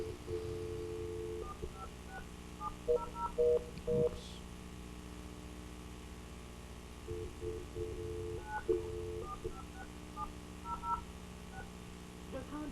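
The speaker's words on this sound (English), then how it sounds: "let me get this phone call thing going here." Telephone keypad tones beep in short bursts while a conference call is dialed during a planning and zoning meeting, clustered in two groups over a faint steady hum, with one brief spoken word.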